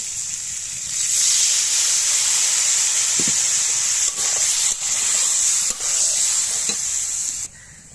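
Water poured into powdered spices and turmeric frying in a pan sets off a loud, steady sizzling hiss, broken by a few soft stirring knocks, before the sound drops away at the end.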